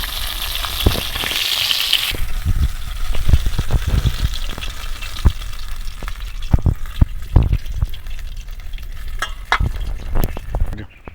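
Lote fish fries in a pan with a continuous sizzling crackle, broken by frequent clinks and scrapes of stirring, close and fairly loud with no talking.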